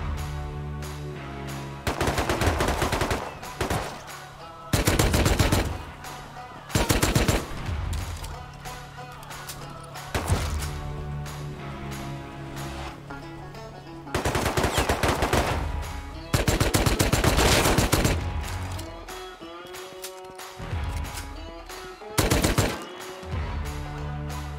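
A Tommy gun in the Rust survival video game fires loud, rapid full-auto bursts, several separate volleys of a few seconds each with short pauses between, close and harsh, with no talk.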